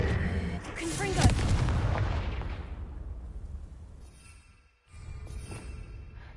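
A fiery Confringo spell blast in the Hogwarts Legacy video game, landing as a loud booming burst that rumbles and fades over a few seconds, followed by a short dip to silence and a low lingering hum.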